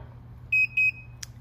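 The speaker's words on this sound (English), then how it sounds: "Got two beeps" An RV accessory device gives two short, clear electronic beeps in quick succession right after being switched on, followed by a faint click over a quiet low hum.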